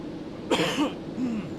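A single short cough, close up, standing alone against quiet background hiss.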